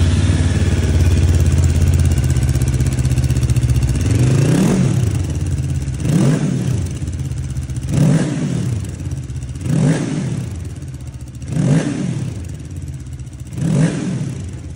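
A Hanway Heritage 400 motorcycle on its standard exhaust, heard up close as it idles and then revs in five evenly spaced throttle blips, each rising and falling over a steady rumble.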